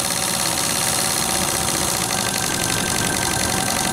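Stuart D10 double-ten live steam engine driving a water pump: a steady, dense mechanical chugging and rattling at constant speed, loud and close, with no voices.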